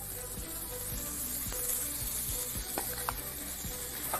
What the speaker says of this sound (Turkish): Bu cız sesini duymanız lazım.